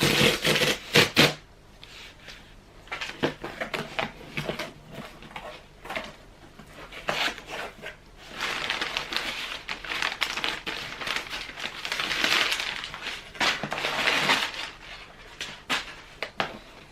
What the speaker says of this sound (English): This is the packaging, and I'm so excited to be opening this with you.